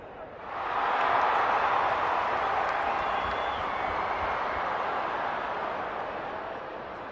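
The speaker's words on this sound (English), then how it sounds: "The crowd already making plenty of noise as the captains come together." Broad crowd roar at a stadium as captains meet before an AFL match between Sydney and Richmond in the AFL 23 game, swelling up then holding steady and fairly loud.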